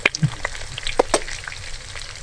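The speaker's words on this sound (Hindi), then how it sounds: "कच्चे कीमे की है, इसलिए हम इसको मीडियम से लो फ्लेम की तरफ लेके जाएंगे, उस पर हम फ्राई करेंगे इसको।" Raw minced meat tikki patties fry in a pan over medium to low flame, giving a close, steady sizzle with small pops and crackles throughout, without voices.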